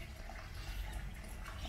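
Fish pond waterfall pouring into a collection basin, a continuous soft splashing and rushing of falling water, steady and faint, with nothing else heard.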